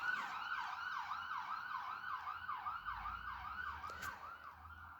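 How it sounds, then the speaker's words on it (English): An ambulance siren wails up a residential road in a steady repeating rise-and-fall, loud and close throughout, with faint road rumble beneath and no voices. "I'm pretty sure there was an ambulance that's just gone up my road"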